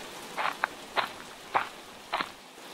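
Footsteps of a man walking to the market in the rain: four separate, evenly spaced steps, close and fairly soft, with no talking and no clear rain noise behind them.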